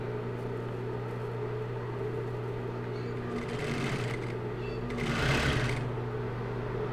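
A sewing machine hums steadily while sewing a half-centimetre seam on fabric for a stuffed dinosaur, with a brief louder rustle near the end, close up and no voices.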